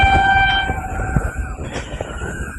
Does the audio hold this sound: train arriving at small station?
yes